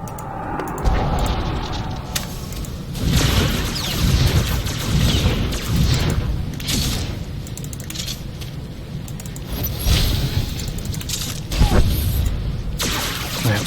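Saboteur Gunslinger combat in a video game: repeated gunfire bursts and thudding grenade explosions crack and boom in quick succession, irregular and loud.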